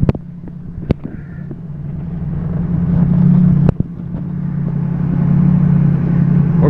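A 6.0 PowerStroke diesel truck in four-low strains to tow a loaded, stalled 35,000 lb International dual-wheel dump truck uphill, a loud close low engine drone building steadily with clanks and a brief dip midway.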